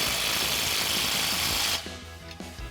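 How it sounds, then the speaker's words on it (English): A 15mm socket tightens a clamp on a Ford F-150 dual exhaust system, with a continuous whirring tool sound for nearly two seconds before it stops, followed by a few brief clicks. "we can use our 15mm socket to tighten this clamp up"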